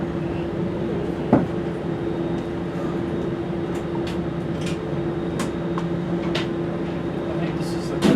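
Steady rumble of a Grand Canyon Railway passenger train ride from Flagstaff, a constant droning hum with scattered light clicks and knocks from inside the carriage.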